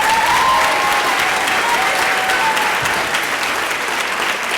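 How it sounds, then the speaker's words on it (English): A crowd at a high school National Honor Society induction ceremony applauds a teacher, dense sustained clapping that fills the room loudly and evenly from start to finish. "Let's give Miss Timlin a round of applause."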